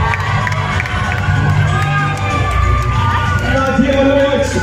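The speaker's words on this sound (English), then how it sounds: "a round of applause for Nadia" A crowd cheers and shouts for an award winner at the Women in Film Awards 2023 at the Kenya National Theatre. The noise is loud, dense and continuous, with whoops and excited voices.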